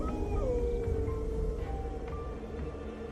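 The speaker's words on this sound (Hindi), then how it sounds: "कुत्ते रोने लगे।" Several dogs howl and wail in sustained, wavering tones at night during a sudden storm with flickering lights, layered over a steady low rumble of wind for the whole stretch.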